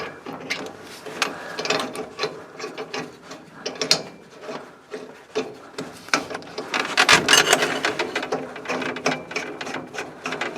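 A wrench tightens a flared fitting onto a propane gas line for a kitchen range, giving close, rapid ratcheting clicks and metallic scraping in uneven bursts.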